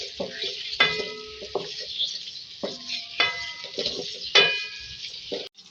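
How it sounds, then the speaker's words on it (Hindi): Cauliflower fries in oil in a karahi, with a steady hiss of sizzling under repeated metallic scrapes and clinks of a spatula stirring, close and fairly loud. "इसी ऑयल में मैं फूल गोभी है, ठीक है, इसको भी मैं ऐड करूँगी। इसको भी फ्राई करेंगे।"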